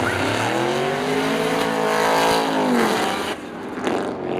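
Race cars roar past at Seekonk Speedway during an Independence Day event, engines droning loudly with a steady, rising-then-falling pitch as a pack speeds by, fading near the end.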